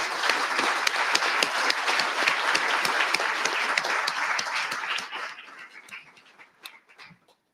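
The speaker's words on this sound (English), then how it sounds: "So please join me in a round of applause for our panelists." A conference audience applauds the panelists at a global conference on AI, security and ethics, with dense, steady clapping from a large crowd that thins out and fades to scattered claps near the end.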